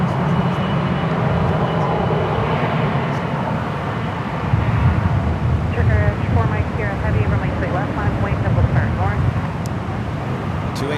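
A nine-year-old Boeing 777-300ER airliner begins to taxi at San Francisco airport, its engines giving a steady loud roar and rumble throughout, with some faint chirping sounds over it in the second half.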